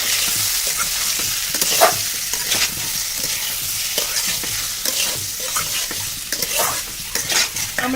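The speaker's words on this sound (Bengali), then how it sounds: "ওর মধ্যে যে আমড়াগুলো আমি ছাল ছাড়িয়ে রেখেছিলাম তো ওগুলো ফেলে দেবো দিয়ে ভালো করে কষিয়ে নেবো" Peeled hog plums stir-fried with ginger and garlic make a loud, steady sizzle that fills the whole stretch, with frequent scraping stirs on the pan up close and no voices.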